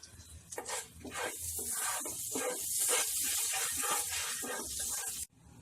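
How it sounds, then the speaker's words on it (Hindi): Cumin, cloves, cardamom and black pepper sizzle in hot butter over a medium flame, a loud continuous hiss with crackling spits that cuts off abruptly near the end. "फ्लेम को मीडियम पे रख के इसे सौटे कर लें।"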